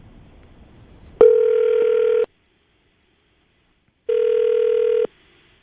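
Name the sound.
telephone dial tone while placing a call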